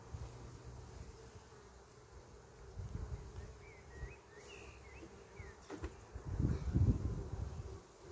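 Bees buzzing around a beehive at a cabin, a faint, thin hum of insects in flight against light wind, with a few brief bird chirps and low rumbles as the keeper moves nearby.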